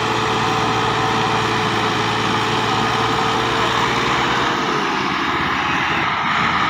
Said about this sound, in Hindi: दो ट्रैक्टर हुण फिर जोर लवा रहे, ट्रैक्टर सीधा गया।